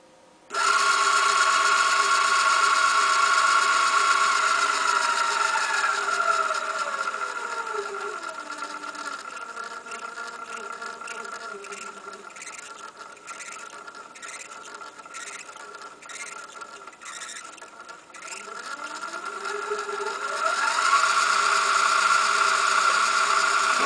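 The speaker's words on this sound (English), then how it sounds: "the motor is working properly" A Pittman spindle motor linear actuator with a 512 CPR encoder runs on about 20 to 24 volts, giving a steady, close electric whine that slides lower in pitch midway, then climbs back up before it stops.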